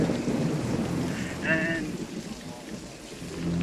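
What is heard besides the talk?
rain falling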